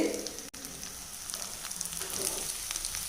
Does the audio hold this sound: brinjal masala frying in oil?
yes